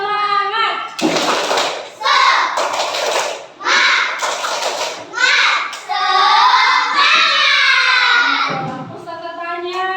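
A group of schoolchildren in a classroom doing a rhythmic clapping chant, loud bursts of claps alternating with chanted voices in a patterned rhythm, close and energetic, with an adult voice speaking at the start and end.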